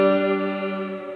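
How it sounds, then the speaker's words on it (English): Sustained Mellotron chord washed in a Meris Mercury 7 reverb pedal, a rich shimmering tone that starts loud and slowly fades with a smooth, lingering tail. "It also works as like a reverb"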